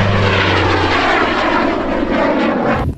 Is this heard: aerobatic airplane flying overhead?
yes